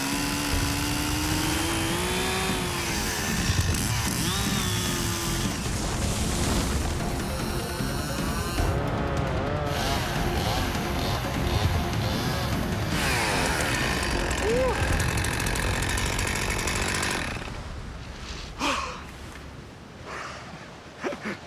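A gas chainsaw cuts through a dead standing tree in deep snow beside a frozen Canadian river, the engine droning loud and close with rising and falling revs before cutting out near the end.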